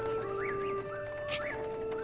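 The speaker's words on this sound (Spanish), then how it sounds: "Oye, que se lo están montando algunos pájaros por ahí." Birds call in The Legend of Zelda: Breath of the Wild, with repeated swooping, warbling chirps over a sustained tonal background hum, moderately loud and close, with a brief sharper note in the middle.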